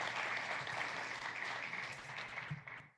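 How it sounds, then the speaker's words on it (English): A conference audience claps steadily for about three seconds, a dense even wash of applause that fades out at the end, with no voices over it. "that deserves a big round of applause"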